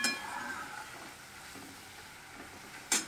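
Garlic, green chilli and shrimp frying together in a pan: a continuous soft sizzle at moderate distance, fairly quiet, ending with a sharp metallic clink of a utensil against the pan.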